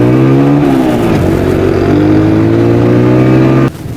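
Street traffic of cars and motorcycles moving under the direction of traffic wardens at intersections with broken signals, heard as a loud, close engine drone with shifting pitch that drops away suddenly near the end.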